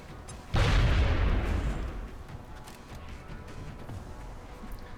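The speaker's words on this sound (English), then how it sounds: "I'll launch this HE grenade over, see if I can destroy that cover or light the tank on fire" An HE grenade explodes in the XCOM strategy game, a single sudden heavy boom that rolls into a long rumbling decay of debris and crackle, loud and close, then fades to low background noise.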